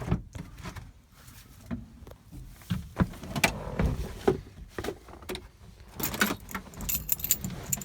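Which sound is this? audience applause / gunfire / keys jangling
keys jangling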